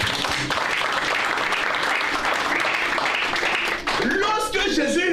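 A church congregation claps in sustained applause, with voices calling out and cheering on top of it and a brief dip partway through.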